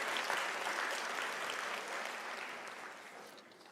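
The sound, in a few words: audience applause at graduation ceremony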